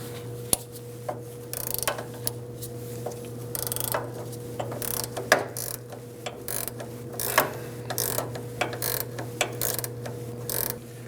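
Two 16mm wrenches work loose the bolt of a rear sway bar link on a 2009-2017 Audi Q5, giving a string of close, uneven ratcheting clicks and metallic ticks over a steady low hum.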